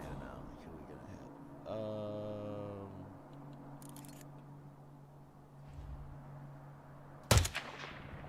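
A single sharp, loud explosion bursts out near the end in Hitman World of Assassination, over a low game ambience; a voice speaks earlier.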